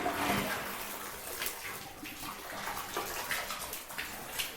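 A bathtub faucet runs at strong pressure, a steady rushing gush of water splashing into the tub, close and continuous with no talk over it.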